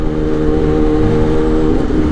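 A Kawasaki ZX10R sport motorcycle, remapped with an aftermarket exhaust, revs loud and close in a steady, sustained engine roar with no talk over it.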